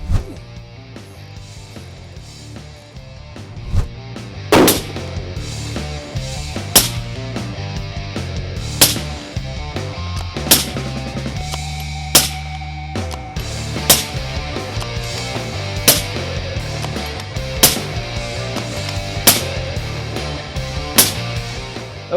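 About ten rifle shots fired at a 1,000-yard target crack out one after another, sharp and loud, spaced roughly two seconds apart over low background rumble.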